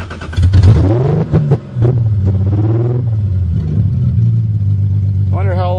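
A 1982 Toyota Cressida engine cranks and catches with the fuel pump off, then settles into a loud, rough, close-up idle that stumbles briefly before steadying, with a voice speaking near the end.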